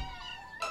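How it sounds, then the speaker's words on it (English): Cartoon kittens meow in a close, clear, drawn-out tonal cry, with a second sharper meow starting near the end. "You be sure to find the kittens a good home, Tubby."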